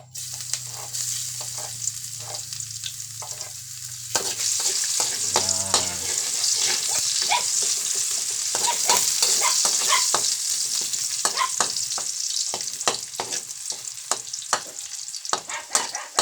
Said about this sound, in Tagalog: So, gisa na natin ang bawang.